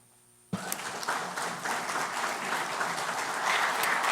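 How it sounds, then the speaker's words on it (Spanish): Applause bursts out suddenly after a brief quiet moment as an audience welcomes an engineer speaker at a talk on the Irazú volcano landslide, then swells into a steady, full round of clapping. "vamos a darle la bienvenida al ingeniero Silir Muner con este fuerte aplauso"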